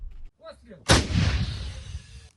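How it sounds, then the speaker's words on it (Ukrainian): Artillery fire from a Ukrainian 80th brigade position covering the road to Bakhmut, one sharp, heavy nearby blast followed by a long rumbling roll of echo, with faint voices before it. "Ось так артилеристи 80-ї бригади прикривають трасу на Бахмут"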